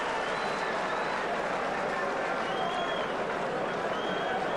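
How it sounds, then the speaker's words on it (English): A capacity crowd at Festival Hall applauds the end of a round in a professional boxing bout between Barry Michael and Lester Ellis, a dense, continuous wash of clapping and cheering heard at a distance with a commentator talking over it. "That exchange appreciated by the capacity crowd here at Festival Hall."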